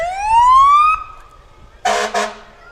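Siren of a 2017 Freightliner Midwest fire pumper tanker in a town parade, a loud rising wail that fades out, followed by two short blasts of a horn, close by and with no talk.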